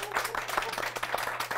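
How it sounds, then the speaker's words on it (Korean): Brief, fairly faint applause from a business talk audience, a sparse patter of individual claps with a steady hum underneath. "두 분 MC분들 박수 부탁드립니다."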